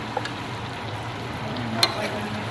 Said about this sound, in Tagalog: stir-fried tofu with mushroom and sweet peas